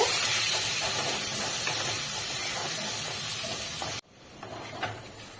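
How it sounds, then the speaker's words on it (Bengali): Potato pieces with salt and turmeric frying in oil, a loud continuous hiss and sizzle that cuts off abruptly partway through, leaving a quieter sizzle with faint clinks. "আলুগুলো একটু লাল লাল করে ভেজে নেব।"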